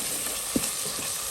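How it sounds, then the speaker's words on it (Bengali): Meat frying in a pan for chowmein, a steady sizzling hiss with a few soft clicks of stirring utensils, close and moderately loud, no voices. "গোস্ত পুরো ভাজা ভাজা হয়ে গেছে।"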